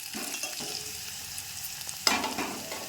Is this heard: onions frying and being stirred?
yes